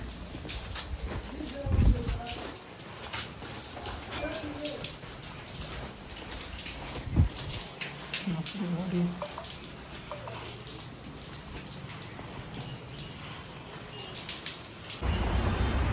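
Steady rain patters outdoors during the monsoon, forming a continuous wash of drops with a few knocks and handling noises, pigeon cooing in the background, and a louder burst near the end.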